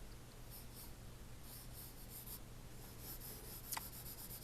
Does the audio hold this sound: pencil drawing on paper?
yes